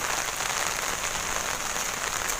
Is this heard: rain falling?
yes